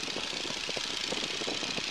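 Stearman biplane engine running up as power is added for takeoff, a steady close rumble with fast knocking pulses and broad high-pitched roar throughout.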